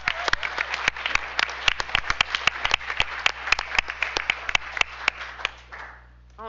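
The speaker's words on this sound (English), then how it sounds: "how about one more round of applause for our" A room at a school board meeting breaks into sustained applause, many hands clapping in dense, uneven bursts for several seconds before it thins out and fades.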